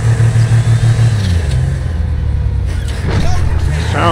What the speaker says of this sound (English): Sounds like a Datsun.